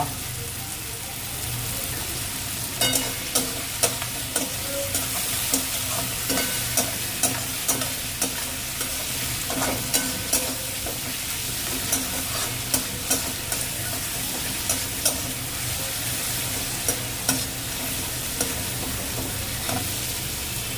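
Sliced onions frying lightly in a pan for soybean biryani, a constant loud sizzle punctuated by regular scraping knocks of a spatula stirring them.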